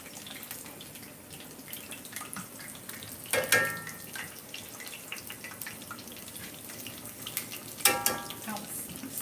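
Chicken nuggets hit hot oil in a home kitchen, a steady crackling fry with two louder splashing bursts partway through, close and without speech.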